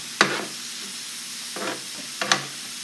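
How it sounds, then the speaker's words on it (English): Steak for burritos sizzles in a pan with a low steady hiss, broken by three sharp clattering scrapes as the meat is stirred and spread out. "So this is steak, and we're just waiting for it to cook up."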